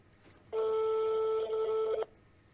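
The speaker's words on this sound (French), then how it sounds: "Au bout de 4-5 sonneries, si ça passe en répondeur" A telephone call rings out as a single steady electronic tone lasting about a second and a half, loud and clear over quiet background hum, with no voices over it.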